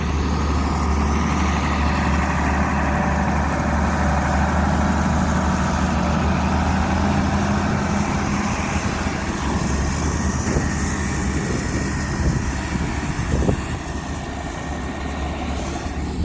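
A truck engine idles steadily on a farm road in the rain, a close, continuous low rumble with an even drone that barely changes over the whole stretch, with no talking.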